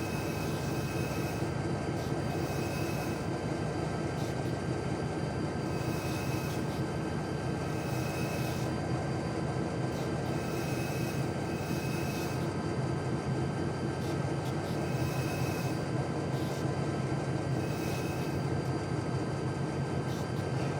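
A WP GP20 diesel locomotive in a Train Simulator game on Donner Pass throttles up to gain speed, a steady, loud, droning rumble of engine and rolling wheels that holds throughout without a break, no voices over it.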